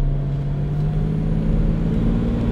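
A 1972 Jaguar E-Type V12 coupé with a 5.3-litre V12 drones while driving, a steady low engine hum with a constant tonal rumble from inside the car, no voices.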